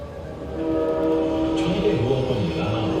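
Indian Railways train rolling past with a steady loud rumble and rail clatter, a faint horn-like tone running through it and no voices.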